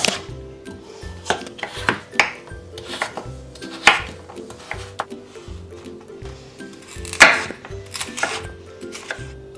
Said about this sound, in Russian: 400 граммов тыквы нарезаю кубиками